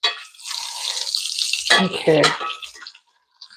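Water runs from a kitchen tap into a pot, a steady hissing splash that shifts and swells as the pot fills and then stops abruptly, with a brief spoken word near the end.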